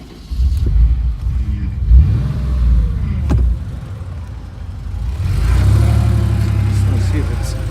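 A 30-year-old Porsche 964 engine idling and revving nearby, a steady mid-range running sound that swells with a rev partway through, heard alone.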